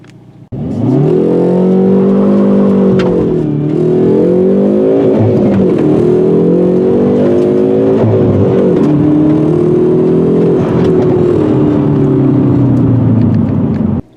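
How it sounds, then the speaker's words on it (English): A 2019 Hyundai Veloster N-Turbo launching hard from a stop with traction control on, its engine loud and close, revving up through several gears with brief dips at each shift before holding a steady high drone. "Let's do a quick 0 to 60 run with the traction control on."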